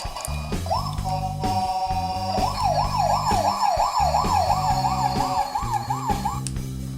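A Transformers Rescue Bots Maxx Action toy fire truck siren wails in a fast up-and-down warble, loud and close, mixed with electronic sound effects and a background tune.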